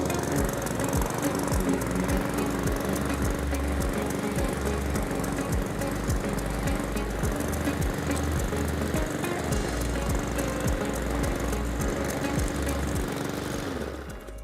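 Cobra M46CVX petrol lawn mower running under load while cutting grass, a loud continuous engine drone with a steady buzzing rhythm and slight fluctuations, close by, dying away at the very end.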